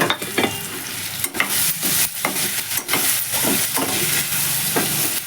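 Chopped onions and tomatoes sizzle loudly in a pan for a Punjabi onion sabzi, with repeated stirring scrapes and spatula knocks over a continuous hiss of frying, close and busy.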